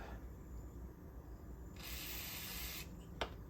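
A steady hiss of liquid spraying from a Jeep Liberty's fuel system lasts about a second against quiet background noise, followed by a brief sharp click.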